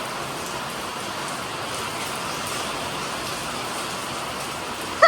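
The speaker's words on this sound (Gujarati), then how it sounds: "વરસાદ જોરદાર ગાજે છે ને વરસાદ ચાલુ થઈ ગયો છે અત્યારે" Heavy monsoon rain pours down in a dense, unbroken hiss that stays loud and even throughout, ending in a brief louder knock.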